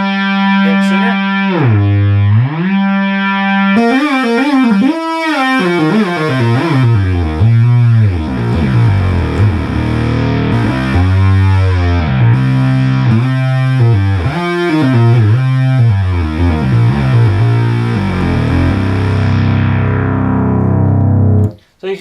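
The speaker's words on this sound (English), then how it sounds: "I'll go and show you your pitch wheel too here." Minimoog synthesizer playing a loud, sustained buzzy tone whose pitch repeatedly bends up and down with the pitch wheel, swooping glides alone with no talking, cutting off abruptly at the end.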